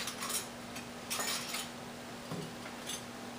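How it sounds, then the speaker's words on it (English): Glass jars with lids, warmed for homemade raw goat milk yogurt, are set into a food dehydrator with a few faint clinks and knocks of glass, quiet and close over a steady low hum. "Jars warmed, lids on, and we'll put these in the dehydrator."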